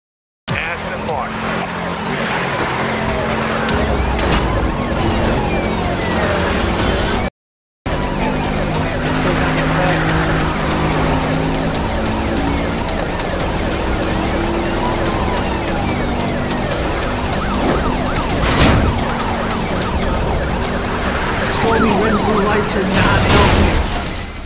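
Police pursuit in the racing game Need for Speed Rivals, with a siren wailing over loud engine roar and road noise throughout, cut by a brief gap of silence early on.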